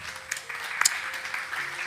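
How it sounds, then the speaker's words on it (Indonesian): Audience applause at an Indonesian religious talk, fairly light clapping from a small crowd, steady and somewhat faint, with a brief louder burst partway through. "Sekali lagi kita tepuk tangan buat Mas Rizky."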